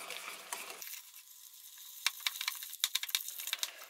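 Cake batter being stirred with jam in a bowl, a close, quiet run of soft wet scraping and sticky clicks with uneven rhythm, heard alone without voices.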